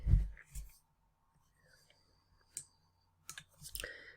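Sharp, quiet computer mouse clicks land in a few brief separate bursts in a near-silent room, with soft murmured speech around them.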